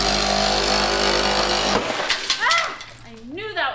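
An engine with its spark plugs pulled cranks over for under two seconds, a loud, even mechanical churn close by, then stops and a voice takes over.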